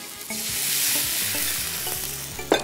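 Butter melting and sizzling in a hot pan as the base for mashed potatoes, with a steady close frying hiss and scraping stirring strokes, ending in a sharp clank, with no talk.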